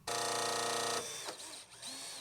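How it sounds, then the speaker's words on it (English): A power drill whirs loudly and steadily for about a second, drilling LED strip clips onto a pontoon boat's aluminum support, then stops, leaving softer clattering and handling noises. "So we're gonna drill these on right here."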